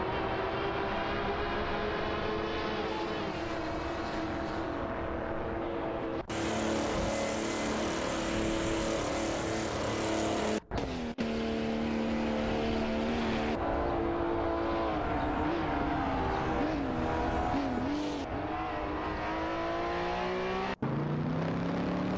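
BMW CSL 3.5 and Chevrolet Corvette race cars in a racing video game; their engines drone continuously, with pitch climbing and dropping through gear changes and abrupt cuts between camera views.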